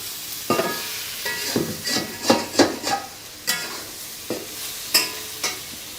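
Prawn masala with raw Konkan mango is stirred and tossed in a pan, giving intermittent scraping strokes and soft sizzling bursts at an irregular rhythm, close and moderately loud.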